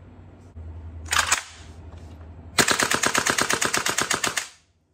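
An AK-style gas blowback BB rifle fires a short burst, pauses, then rattles off a rapid string of about a dozen loud, sharp shots before stopping abruptly as it jams.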